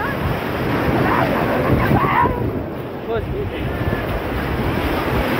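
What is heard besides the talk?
sea waves at Marina Beach, Chennai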